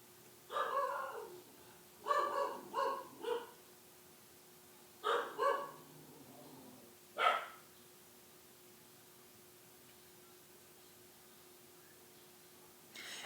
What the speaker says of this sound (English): Guys, that was my dog.